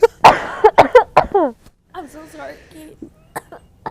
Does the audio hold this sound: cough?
yes